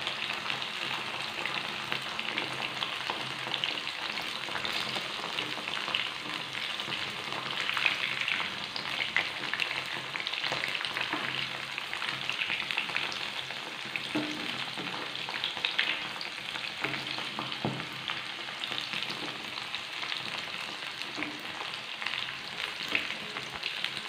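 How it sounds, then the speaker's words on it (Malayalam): Ivy gourd (kovakka) pieces shallow-frying in oil with curry leaves, a continuous dense crackle and hiss of oil held steady throughout, fairly quiet and close, with only occasional faint utensil taps. "നമ്മൾ കുറച്ചെ കുറച്ച് ഫ്രൈ ചെയ്തെടുക്കുമ്പോൾ അതിലേക്ക് ഒരല്പം കറിവേപ്പില കൂടി ഇട്ട് കൊടുക്കാം"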